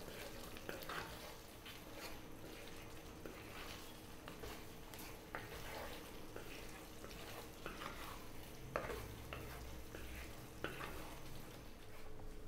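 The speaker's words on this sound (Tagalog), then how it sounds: "haluin ko lang sandali. Lulutuin ko lang po siya ng mga 2 minutes" Pork mechado stew simmers quietly in a pan while a spoon stirs it, soft bubbling and faint sizzle broken by occasional scrapes and clinks, all low and close.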